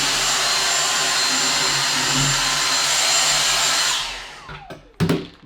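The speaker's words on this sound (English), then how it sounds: "Maybe I should vacuum that out." A vacuum cleaner whines loudly and steadily as it sucks dust out of a reverse osmosis system's water tank, then winds down and stops, followed by a couple of sharp clunks.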